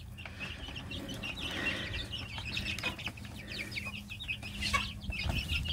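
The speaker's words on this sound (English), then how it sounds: "They're running around like some crazy chickens now." Chickens cluck and chatter continuously as they run around their new coop, a busy flock sound close by with layered overlapping calls and scratching, fairly loud throughout.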